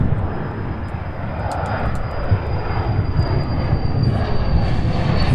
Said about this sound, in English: our next 767 UPS 2916 heading to Long Beach, California, getting ready to take off from 35 left